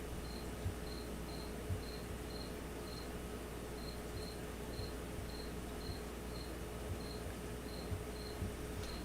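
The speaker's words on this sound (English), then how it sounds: "If you guys can hear a cricket chirping," Steady, evenly spaced chirps from a single indoor cricket repeat quietly and continuously over low room hiss, with occasional faint clicks.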